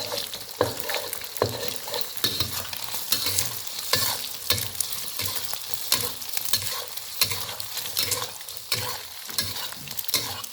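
Chopped garlic stir-fried in a hot pan for Thai egg fried rice, a steady loud sizzle broken by rhythmic scraping stirs of the spatula, close up with no voices.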